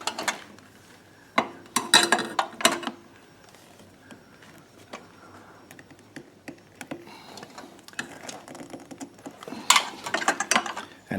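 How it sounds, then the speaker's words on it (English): A fuel hose is worked onto a hose barb with needle nose pliers during a fuel kit install on a Predator 3500 generator, producing close metallic clicks, rattles and scraping taps in irregular clusters, with no speech. "I'm going to take it with my needle nose pliers and go behind it and pull it onto"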